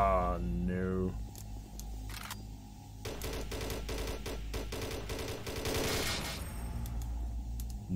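Shotgun firing rapidly in the video game Doom 3, modded and in the Alpha Labs, a fast string of sharp blasts and mechanical clacks over a low rumble, moderately loud, with someone talking during it.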